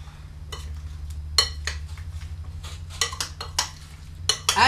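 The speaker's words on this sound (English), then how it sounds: "You'll try to coat all the apples, okay? Wanna stir it real good." Sliced apples stirred with light brown sugar in a bowl, giving a string of scraping, clinking strokes of a spoon against the bowl over a low steady hum, close and fairly loud, with no talking.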